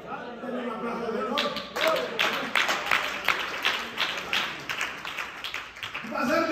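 A church congregation breaks into sustained rhythmic clapping, dense and fairly close, that rises after a voice and keeps going for several seconds before a voice returns.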